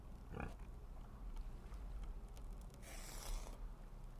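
Pigs grunting and oinking in the survival game Vintage Story while being slaughtered in a pen. The short snorts are faint and scattered over a low rumbling background, with a brief rustle of scuffling near the end.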